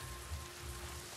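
Steady rain hiss falling on surfaces in the video game The Last of Us Part II, a continuous, fairly quiet wash with a soft low rumble beneath, heard alone with no talk.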